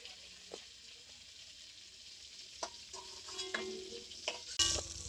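Whole pointed gourd (potol) frying in oil in a pan, a steady soft sizzle with occasional scrapes and clinks of a spatula pressing the pieces, growing busier toward the end.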